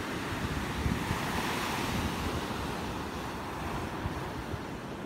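Sea waves breaking and washing onto a beach at Hồ Tràm, a steady broad surf roar with wind noise buffeting the microphone, boats nearby, continuous and fairly loud with no talking.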